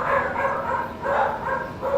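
Two dogs, Kuma and Emmy, barking repeatedly in a steady rhythm of sharp, mid-pitched barks, fairly close and moderately loud, with no talking over them.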